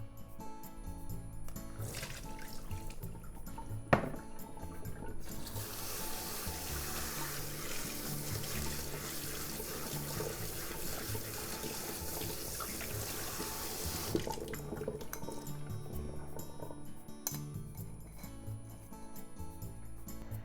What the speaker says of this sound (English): So let's drain and rinse under running water.